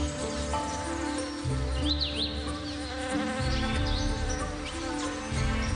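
Male orchid bees buzz steadily and close, their humming wavering in pitch and loudness, with faint insect chirps and bird calls in the background.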